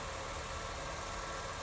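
A Honda Civic engine idles from a cold start, a steady low rumbling hum with an even mechanical whir, faint and continuous, heard alone.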